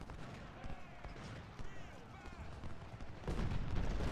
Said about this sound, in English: So these enemy guns are delaying our advance.